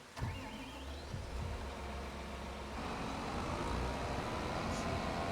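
A tractor engine in Farming Simulator 25 starts and then idles with a steady low drone, opening with a faint whine and a short rising sound before the running engine grows slightly louder and holds.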